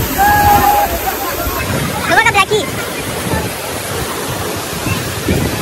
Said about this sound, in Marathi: त्या पाण्याला फोर्स एकदम जोरात आहे